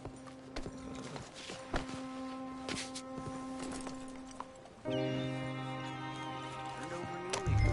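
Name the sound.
horse walking, hooves, in a video game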